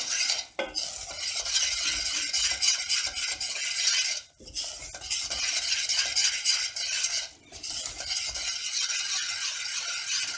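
Aside, a Kayseri flour-and-water dessert, being stirred in a pot: a steady, close scraping and rubbing that runs continuously, broken by two brief pauses, with no voices.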